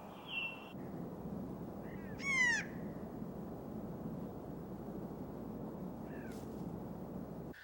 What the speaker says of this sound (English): any number of songbirds will step forward to sing a solo